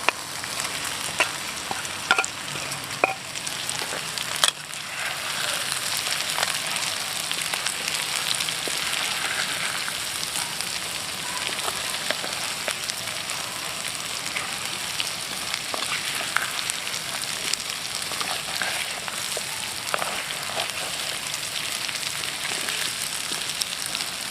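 Potato pieces frying in hot oil for a spicy Indonesian balado dish, giving a steady broadband sizzle and crackle throughout with a few sharper pops early on, close and continuous, with no talking.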